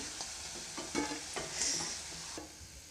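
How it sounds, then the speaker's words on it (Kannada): Potatoes browning in a frying pan, a soft steady sizzle with several light scraping stirs spaced through the moment, close and fairly quiet, no voices. "ಇವನ್ನ ಬ್ರೌನ್ ಕಲರ್ ಬರೋವರೆಗೂ ಒಂದು ಸ್ವಲ್ಪ ಫ್ರೈ ಮಾಡ್ಕೋಬೇಕು"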